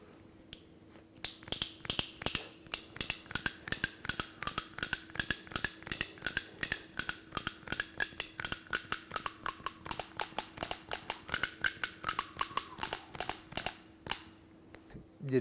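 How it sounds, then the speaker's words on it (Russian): A Bashkir wooden kubyz jaw harp played up close with a rapid, steady run of sharp clicks over a constant low drone, its twangy overtone slowly sliding up and down, heard alone for about thirteen seconds. "Это башкирские кубызы."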